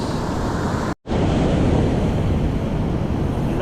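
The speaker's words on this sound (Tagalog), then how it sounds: "Lakas pa rin ng alon." Strong sea waves roll and surge in a steady, loud rush at a fishing spot on the Philippine shore, with heavy wind buffeting and a brief dropout near the start.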